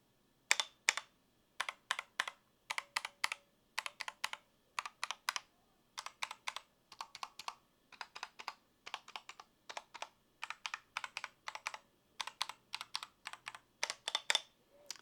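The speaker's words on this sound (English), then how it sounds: "First, hear this keyboard." Typing on an iLovBee i61 60% RGB mechanical keyboard: steady bursts of crisp, close keystroke clicks in short rhythmic runs with brief pauses between, heard alone without any talking.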